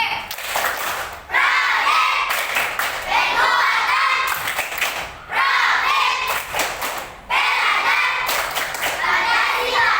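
A class of schoolchildren performs a chanted clapping routine, bursts of rhythmic group claps alternating with their unison chanting, in repeated loud phrases separated by short pauses.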